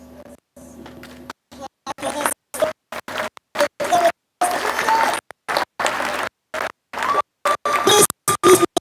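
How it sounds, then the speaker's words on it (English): A conference audience claps in bursts broken by abrupt silent gaps, with voices audible among the clapping and a few sharper close hand claps. "Round of applause."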